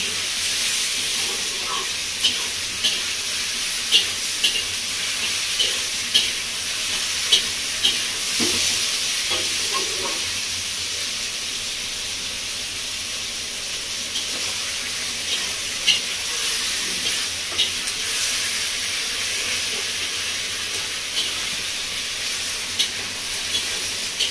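Potatoes and spices sauté in a pan for a fish and ridge gourd curry. A loud, continuous frying hiss runs throughout, broken by intermittent sharp stirring clicks and scrapes, close and without talk.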